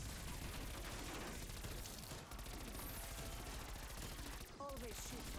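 Rapid gunfire from Call of Duty zombies on the Mauer der Toten map, dense continuous bursts of shots packed tightly together at a low, distant level, with brief gaps and faint game effects.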